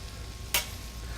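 Scallops land in hot butter in a pan, giving one brief burst of sizzle over a steady low frying hiss, with no talking.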